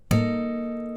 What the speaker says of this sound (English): if you tap it quickly enough, you'll get this nice natural harmonic sound